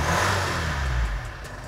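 A car engine fires and revs briefly, loud and close, then settles lower toward the end.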